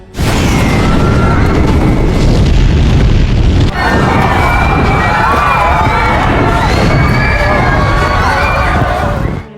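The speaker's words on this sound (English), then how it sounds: "Other people who do not retreat in time are instantly blown away by the blast wave of the fire." Fiery explosion blast from the Korean disaster film The Tower, set in a burning skyscraper on Christmas night: a loud, continuous roaring rumble with a sharp break midway, layered with crowd screams and shouting throughout.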